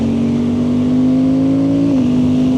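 A Suzuki GSX-8R motorcycle engine holds a steady, loud drone, then a quick-shifter gear change near the end briefly drops the pitch before it settles at a new level.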